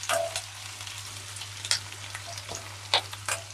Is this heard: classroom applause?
no